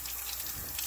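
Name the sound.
rinsing a nail under running water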